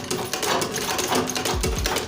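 A shoe-repair sewing machine set to a very short stitch length runs continuously and up close, producing a dense, rapid mechanical chatter with a few deeper thumps near the end.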